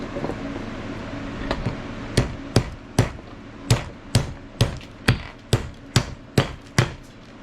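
A hammer repeatedly strikes a screwdriver driven against a Cold Steel Natchez Bowie knife during a full-tang conversion, with about a dozen sharp metallic blows at a steady, close rhythm over a constant fan-like hum, and no talking.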